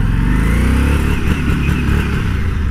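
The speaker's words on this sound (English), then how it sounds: "in first gear, I did about 20 miles an hour there, and the bike started to sputter and lost some power" A Harley motorcycle held in first gear at about 20 mph, its engine running loud and close with a rough, uneven sputter as it loses power under a governed speed.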